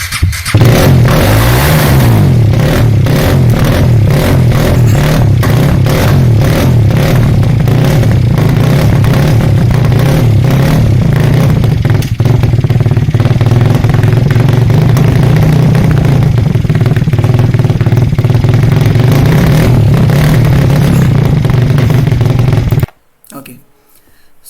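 Formula Student race car engine running during a test, a loud, close, steady roar with a rough pulsing throb and rising and falling revs, cutting off suddenly near the end.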